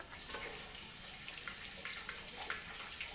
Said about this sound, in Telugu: ఏంటి బియ్యం కడుగుతున్నావు ఏంటి?